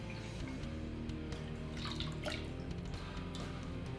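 Freshly squeezed orange juice poured into a container for a tequila punch, a soft continuous liquid trickle with light splashes, faint and close, no talking.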